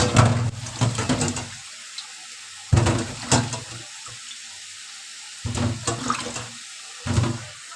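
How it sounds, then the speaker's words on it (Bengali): Tap water runs in several bursts as fish is rinsed in a sink, loud splashing flow stopping and starting with brief quiet gaps between. "মাছটা হচ্ছে একটু ধুয়ে নিই"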